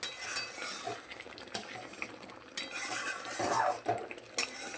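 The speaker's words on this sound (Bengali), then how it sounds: "ভিনিগারটা দিয়ে খুব ভালো করে মিশিয়ে নিচ্ছি" A spoon scrapes and clinks against a bowl as vinegar is stirred into sweet raw mango pickle, with quiet irregular knocks and swishes close by.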